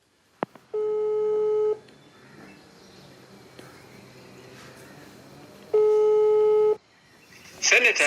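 A telephone call signal sounds while someone is being called: two loud, steady electronic tones, each about a second long and separated by a quieter pause, followed by a brief clatter at the end.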